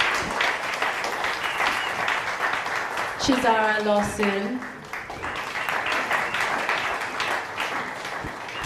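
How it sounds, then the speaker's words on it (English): Sustained applause from a conference audience at a business event, dense and steady throughout, with a brief spoken voice breaking through near the middle. "Please, could you clap for them"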